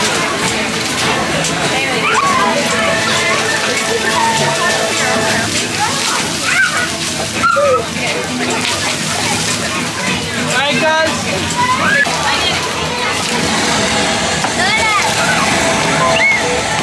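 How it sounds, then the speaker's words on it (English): Water sloshes, splashes and gurgles continuously at Disney's Moana-inspired Journey of Water attraction, with crowd chatter and voices running underneath throughout. "The journey of water inspired by Moana"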